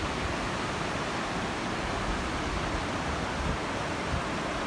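A large waterfall in Ladakh pours steadily, producing a dense, unbroken roar of rushing water that stays constant throughout with no voices.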